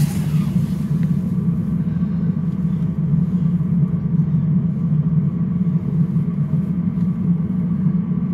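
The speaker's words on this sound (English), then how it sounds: "And yes, that heater is actually that loud." Loud, steady roar of a van's cab heater blower with a low rumbling hum, constant and unbroken throughout, no voices.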